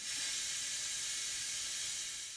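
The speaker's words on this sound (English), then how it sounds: "I heard somebody using the steam thing to clean a jug out a few days ago." A steady, breathy hiss from a steam cleaner, fairly loud and continuous, without other sounds.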